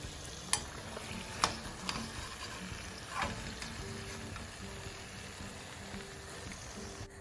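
Papdi dough rounds frying in hot oil, a continuous fine bubbling sizzle with a few sharp clicks and scrapes near the start, close and moderately loud, no voices.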